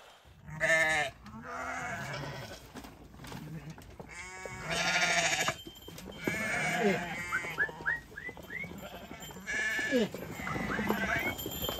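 Sheep bleating in a village flock, several calls close by and overlapping, with someone talking under and between the bleats and a faint whistle.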